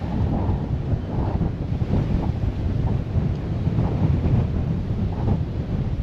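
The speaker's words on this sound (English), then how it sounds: "Yep, some good wind." Strong wind on the Loma de Tiscapa hilltop buffets the microphone with a loud, steady low roar and rumbling gusts throughout, and no voices are heard.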